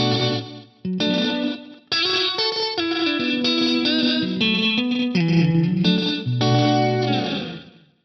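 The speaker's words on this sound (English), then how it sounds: "It's like a multi-dimensional slapback." Electric guitar chords ring out through an Axe-Fx III multitap slapback delay, each note trailed by multiple quick echoes with a shimmering, chorused tone.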